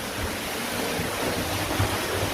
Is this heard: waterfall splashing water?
yes